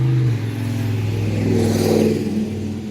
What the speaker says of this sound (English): hook your battery terminals up to the battery, and fire the engine up